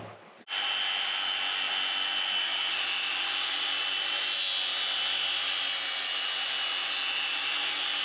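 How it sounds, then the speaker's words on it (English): A 40-grit flap disc on an angle grinder sands an 80-year-old wooden beam during a stone house restoration, giving a loud, steady, harsh abrasive roar with motor whine that starts abruptly after a brief pause and runs unbroken, with no talking. "not impressed with the flap discs. I've tried many combinations. This is the worst. This was with the 40 grit."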